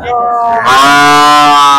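A cow of the local Naira breed moos loudly at a rural cattle market, one long, drawn-out bellow that swells after a softer start and fills the whole moment, close by.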